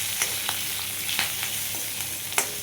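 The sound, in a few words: frying garlic, green chilies and curry leaves in oil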